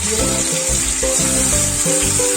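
Spices such as ajwain, turmeric and dry ginger sizzle steadily in hot ghee, a loud close continuous crackle and hiss with no one speaking.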